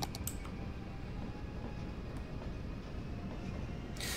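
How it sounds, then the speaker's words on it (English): A train rumbles steadily past a rail crossing in the city-building game Cities: Skylines, a continuous, fairly loud low roar lasting several seconds with no voices over it. "Ooh, look at this train go by."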